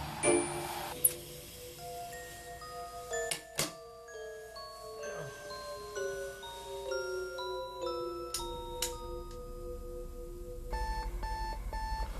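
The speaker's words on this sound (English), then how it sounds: "I won't hit the snooze button on the alarm" A bedside alarm clock rings out in a run of bright electronic tones and chimes, close and clear, with sharp ticks and a denser burst of beeping near the end, no voices.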